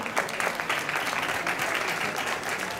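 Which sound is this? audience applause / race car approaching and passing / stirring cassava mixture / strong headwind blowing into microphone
audience applause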